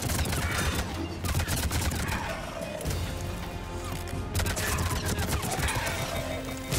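Rapid automatic gunfire in the Mass Effect 3 video game, set in a battle on Earth: dense, continuous bursts of loud shots that rattle on for several seconds with barely a pause.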